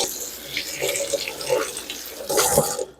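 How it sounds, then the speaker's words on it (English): A few leaves washed under a running kitchen tap, a continuous hiss of streaming water with shifting splashes as they are turned beneath it, fairly close and alone. "I'm just gonna take like 1 or 2 or 3 leaves. I'm gonna wash them, make it nice and clean."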